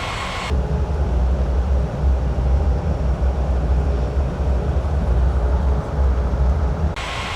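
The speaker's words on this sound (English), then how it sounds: "Blue sky 1663 cleared for takeoff runway 18." A steady, loud, broadband roar of a jet airliner powering up for takeoff on a runway, heard up close and continuous with a deep low rumble.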